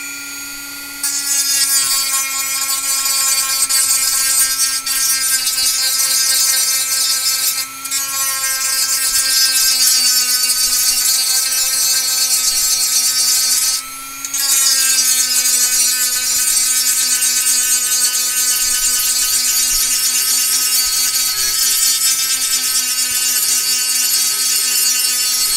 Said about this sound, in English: By the time I smooth this all the way out with the Dremel, I'll have gone too far on a lot of the parts.